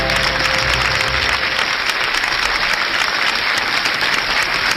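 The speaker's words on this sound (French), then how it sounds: "C'est Johan, le premier candidat qu'on applaudit très fort." A studio audience applauds steadily throughout, a dense wash of clapping at a loud, even level with no voices on top.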